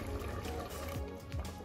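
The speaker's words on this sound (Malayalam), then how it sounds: "അരപ്പ് ഒഴിച്ചു കൊടുക്കണം." Ground coconut paste pours into a simmering pot of beef white kurma, a soft, faint, continuous liquid glug and splash lasting under two seconds with no talking.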